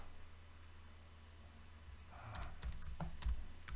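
Typing on a computer keyboard while writing a Python program, soft key clicks starting midway as a quick irregular patter, close and quiet over faint room hum, with no voices.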